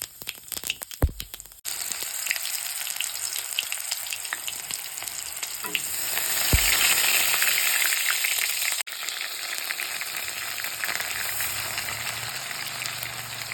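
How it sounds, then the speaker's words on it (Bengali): Black cumin seeds and a dried red chili sizzle steadily in hot oil for a village-style fish curry, a close, continuous frying hiss broken by a few sharp clatters of stirring, with no talking. "ফোড়নে দিচ্ছি কালো জিরে আর একটা শুকনো লঙ্কা।"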